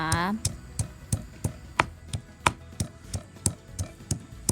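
Unripe mango pounded in a mortar for a salted-fish mango chili relish, a Malay-style home dish: steady, close thuds about three per second, with a brief voice at the very start.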